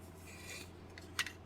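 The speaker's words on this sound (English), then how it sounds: "Got a little more sanding to do here on the green Bondo." Faint, soft rasping strokes of sandpaper on green Bondo body filler on a model Ford F100 truck cab, quiet and close over a low steady hum, ending with a brief sharp scrape.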